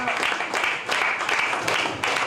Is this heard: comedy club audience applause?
yes